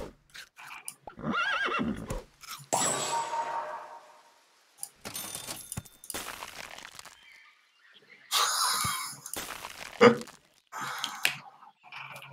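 Horses in the video game Super Auto Pets give several separate whinnies and neighs in bursts with pauses between, some with clip-clop hoof sounds, fairly close and clear.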